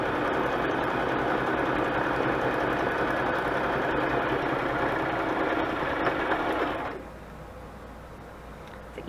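A sewing machine chain-sewing quilt collage pieces runs in a steady, dense mechanical whir for about seven seconds close by, then stops abruptly, leaving a quiet hum.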